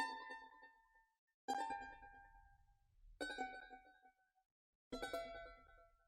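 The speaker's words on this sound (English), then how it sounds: "Okay, next thing we have is the charango." A charango part for a beat plays as four bright strummed chords spaced evenly apart, each ringing and decaying into near silence before the next, alone and soft.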